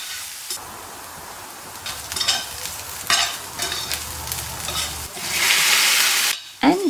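Onion, green chilies and cauliflower sizzle and fry in oil with jeera, steady crackling broken by bursts of stirring and a louder hiss toward the end, close and with no talk.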